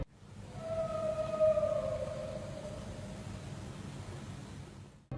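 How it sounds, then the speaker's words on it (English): Long, eerie wolf-like howls drift through a Scottish night, a sustained wavering tone rising and sliding downward over several seconds, fairly faint against a steady hiss of background noise, with no voices. "The howls felt strange, not just like regular wolf sounds"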